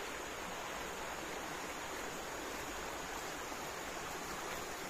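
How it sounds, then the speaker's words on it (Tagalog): A mountain stream crossed on a hike flows in a steady, dense rush of water, close and continuous, with no voices. "Ngayon tatawirin naman natin itong sapa na ito."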